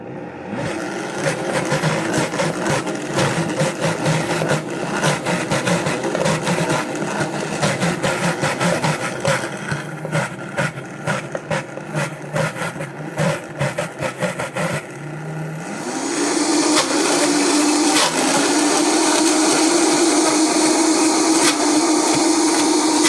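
Countertop blender whirring through Brazil nut and cashew vegan cheese with olive oil, a loud, choppy motor grinding for about fifteen seconds, then rising to a smoother, higher, steadier whine as the mixture loosens.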